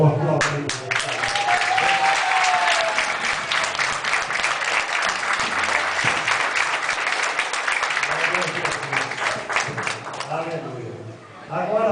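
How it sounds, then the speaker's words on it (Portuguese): Wedding guests at a church ceremony applauding, a dense, sustained round of many hands clapping that fills most of the stretch and fades near the end, with voices and cheers mixed in. "Vamos aplaudir."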